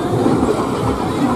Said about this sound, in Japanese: 広電電車にもフラワーフェスティバルの会場経由とかって書いてありますね